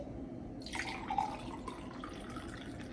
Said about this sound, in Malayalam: ഞാൻ ഈ വെള്ളം ഗ്ലാസ്സിൽ ഒഴിച്ചിട്ട് കാണിക്കാവേ